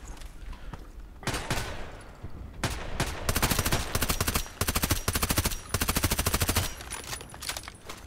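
Suppressed gunfire in the online shooter Contract Wars, with rapid bursts of muffled shots in quick rhythmic strings, some short and some sustained, close and fairly loud over faint background noise.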